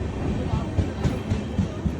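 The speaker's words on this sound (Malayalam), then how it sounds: "അങ്ങനെ ഞാൻ കയറേണ്ട ട്രെയിൻ വന്നു" A passenger train pulls into Chengannur railway station in Kerala, its low rumble and rhythmic wheel clatter continuous and fairly loud, with a brief rise of higher screech partway through and station noise around it.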